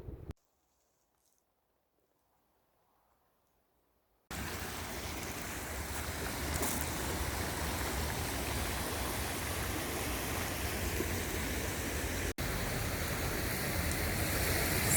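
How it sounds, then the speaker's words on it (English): A Scottish Highlands waterfall near a hillfort roars as a constant, loud, broadband rush of falling water. It starts abruptly after about four seconds of silence and continues steadily without a break. "we are back at the waterfall"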